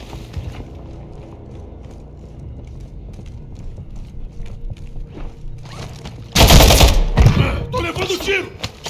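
Bursts of rapid automatic gunfire in Call of Duty: Warzone 2.0 erupt loudly after a stretch of low background noise, with dense crackling shots and short pauses between volleys.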